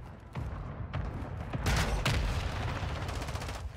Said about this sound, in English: there's two mortars going off